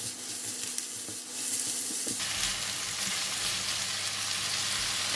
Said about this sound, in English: I also putting in the stem of the vegetable because it's harder to cook.